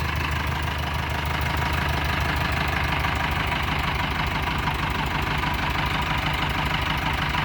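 A Proton six-wheel truck engine idles steadily and loudly throughout, with a constant low knocking rumble and no voices.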